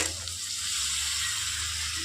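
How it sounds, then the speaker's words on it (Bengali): Crab sizzling steadily as it is sautéed in a spice paste in a hot pan, with a dense, close and continuous frying hiss that never lets up. "এবার মশলাটা একটু কষা হলে তার মধ্যে আমি কাঁকড়াটা দিয়ে দেবো।"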